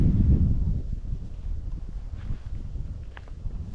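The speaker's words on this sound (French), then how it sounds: "on entend le vent qui s'engouffre dans les feuilles des arbres, j'adore" Steady outdoor wind rushing through tree leaves in Spain, a low rumbling rush and faint rustling, strongest at the start and easing slightly, with no voices.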